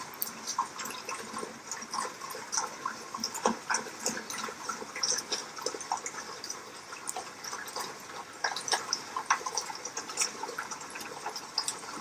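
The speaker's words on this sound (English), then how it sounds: "Here's a bunch of puppy dogs." Six Scottish terrier puppies whimpering, squeaking and scuffling together at close range, with soft irregular yelps and rustling movement throughout.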